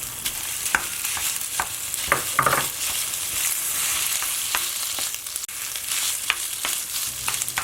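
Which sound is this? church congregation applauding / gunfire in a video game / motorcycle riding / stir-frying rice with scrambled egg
stir-frying rice with scrambled egg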